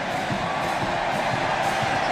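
A stadium crowd of nearly 105,000 cheers at a Texas A&M college football game against Samford, a dense, distant roar that stays steady throughout, with some voices blended in.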